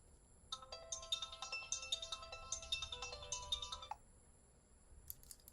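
A bright electronic phone ringtone plays a repeating melodic pattern for a few seconds, then stops, followed by a faint brief chirp.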